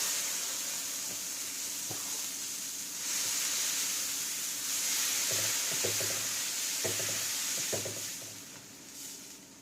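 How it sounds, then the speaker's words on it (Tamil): Jowar dosa batter sizzles on a hot dosa pan with a continuous, fairly faint hiss. Occasional soft knocks and scrapes from spreading the batter punctuate it, and there is no talk. "மாவை ஒரு தடவை நல்லா கலந்து விட்டுட்டு மாவை ஊற்றிடலாம்."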